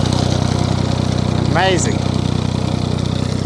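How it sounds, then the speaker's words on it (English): A farm tractor with a smaller engine drives a grass cutter through a Portugal field, its steady mid-pitched engine drone running loud and constant throughout while a person speaks briefly over it. "the tractor that he's got here now, this one, it's got a smaller engine. It's obviously powerful enough to power that cutter"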